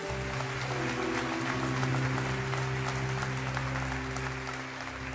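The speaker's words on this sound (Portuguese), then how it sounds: "Se for para aplaudir Jesus, ajuda aquela irmã ali" Steady applause from a church congregation fills the whole stretch, loud and continuous, with sustained organ-like tones underneath.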